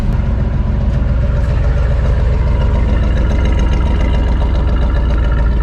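A 1973 GMC C2500 pickup's engine runs steadily at idle, loud and close, with an even mechanical rumble and faint rhythmic ticking throughout, fresh from an alternator and fuel filter replacement.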